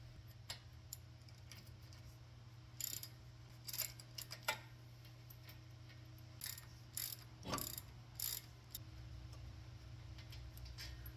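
A ratchet removes caliper bracket bolts on a Ford Explorer Sport Trac, heard as faint bursts of clicking ratchet strokes over a quiet hum, with short pauses between runs.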